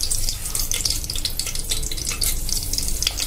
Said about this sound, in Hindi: घी गरम हो गया तो इसमें हम सारे खड़े मसाले डाल देते हैं